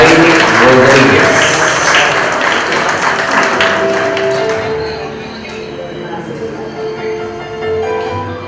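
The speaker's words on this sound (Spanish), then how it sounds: "El aplauso, ahí viene la jovencita Daily Rodríguez" Guests applaud at a quinceañera celebration as a young woman carrying the crown enters, loud clapping at first that tapers off midway, with music and background chatter continuing beneath.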